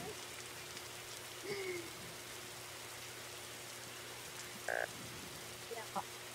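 Steady rainfall in the video game Roblox gives a constant soft hiss. A few faint short tones and chirps sound briefly over it.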